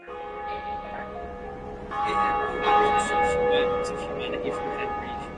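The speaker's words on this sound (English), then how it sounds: "it's that bell I've been fucking hearing for like this whole game" A church bell rings in a video game, sustained metallic tones and chimes swelling and decaying over a continuous droning background, moderately loud.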